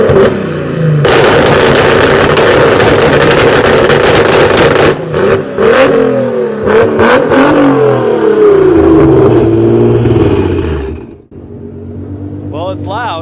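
A Nissan Fairlady Z with an exhaust tuned to sound like an R35 GT-R revs hard and loud up close, a raspy roar rising and falling through several blips before dropping off, with crackles as it settles.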